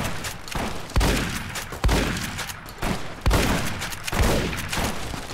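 Shotgun blasts from the game Fallout: New Vegas boom out in a series of about six heavy, evenly spaced shots, each followed by a short decaying tail, loud and close with no talk.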